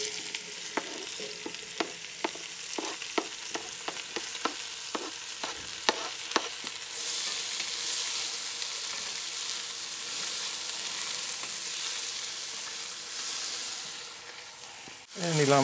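Onions sizzle in butter in a hot Dutch oven, starting with a series of sharp clinks and stirring taps, then settling into a steady, bright frying hiss.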